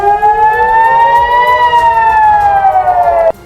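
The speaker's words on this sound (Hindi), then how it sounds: "और सायरन बजने लगे।" An air raid siren wails loudly in northern Israel, a single sustained tone that slowly rises and falls before cutting off abruptly.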